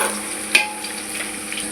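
Onions and green chilies sautéing in a pan, a soft steady frying hiss with a brief stirring scrape near the start, close and fairly quiet with no voices.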